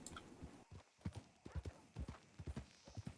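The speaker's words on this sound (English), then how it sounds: "There's a horse on the tracks." Horse hooves clip-clop in a steady, close rhythm beside railway tracks in the Western video game Deputy Lucien Lorde, the clear hoofbeats repeating for a few seconds with no one talking.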